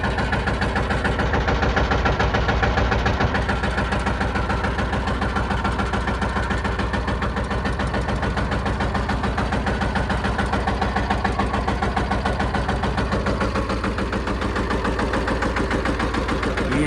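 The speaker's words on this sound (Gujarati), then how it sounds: "ભાઈ આપણે ટ્રેક્ટર હલવાડીને બેઠા છે." A mini tractor engine chugs steadily at idle, a continuous low, knocking rumble close by that holds throughout.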